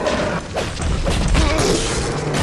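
In Alien: Isolation, a wrench lands a rapid flurry of smacks and clanks, a busy metallic clatter of hits with brief whooshing swings, loud and close with no speech.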